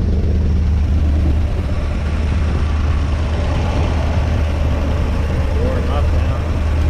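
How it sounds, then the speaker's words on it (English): A Ford 460 V8 in an Econoline E-350 tow truck with a Holley 4180 carburetor idles roughly with a misfire and bad exhaust, a loud, close, continuous low rumble. "Misfire, bad exhaust."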